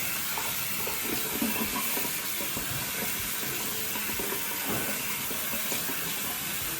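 Green pitted olives are rinsed under running water, giving a faint, steady hissing stream with light patters throughout, with no voices.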